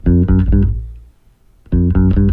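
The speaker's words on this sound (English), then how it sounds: "We all know bass lines that sound like this." Two short bursts of plucked electric bass notes, a quick run of several notes each, separated by a brief pause.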